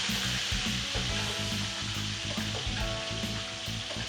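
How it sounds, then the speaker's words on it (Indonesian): Tempe mendol patties frying in hot oil give a steady, dense sizzle and crackle that holds at an even level throughout, with no talking. "Cara goreng yang benar, Bu Ibu, biar nggak kecipratan, harus dari samping saya."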